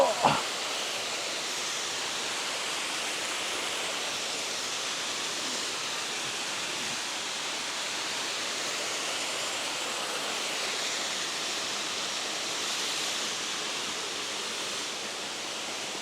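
Kondilla Falls waterfall, running with lower than usual flow, gives a steady, even broadband rush that continues unbroken throughout, heard alone with no talk.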